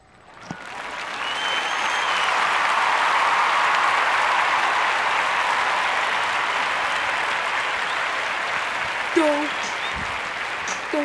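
Loud, sustained crowd cheering and clapping swells up and holds steady as a dense roar for several seconds, with a brief voice cutting in near the end.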